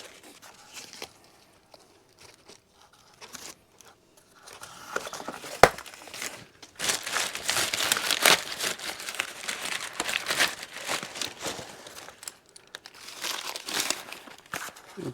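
Sturdy packing material around a Lectric XP4 e-bike crinkles and rustles during unboxing, starting with sparse quiet handling and building to sustained close crumpling for the second half.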